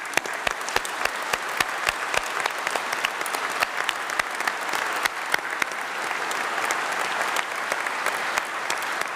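An audience in Portsmouth Guildhall applauds at a university graduation ceremony, steady close clapping with a few sharp individual claps standing out above the crowd.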